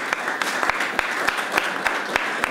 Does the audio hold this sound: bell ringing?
no